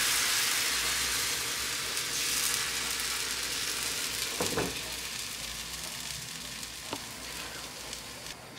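Rye flour pancake batter frying in a hot pan gives a steady, close sizzle throughout, with a couple of brief clinks or scrapes midway and no talking.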